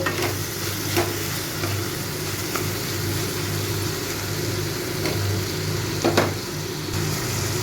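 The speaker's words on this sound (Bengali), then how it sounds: "এই কাজু বাদামটাকেও এর সাথে ভেজে নেব" Cashew nuts frying in a pan with onion and tomato give a steady close sizzle, with a few soft stirring scrapes and spoon knocks over a low constant rumble.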